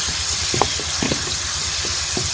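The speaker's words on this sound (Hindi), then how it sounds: "थोड़ा सा पानी छिड़का" Loud steady sizzling hiss as water is sprinkled into a hot frying pan of turmeric, salt and red chili masala, with small crackles and pops scattered throughout.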